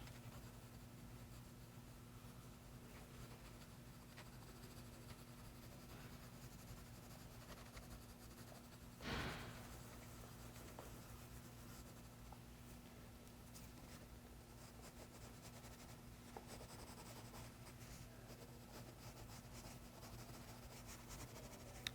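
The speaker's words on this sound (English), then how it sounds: "I'm going to add with the green pencil" Green colored pencil shading on paper, a faint continuous scratchy rasp of strokes under steady background hiss, with one brief louder tap midway.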